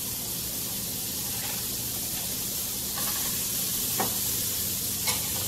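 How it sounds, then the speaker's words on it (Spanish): Two sticks of butter melting in a pot give a soft, steady sizzle with light stirring clicks, close and continuous, with no voices. "Lo primero que vamos a hacer es poner la mantequilla a la olla, que se derrite, dos barritas de mantequilla."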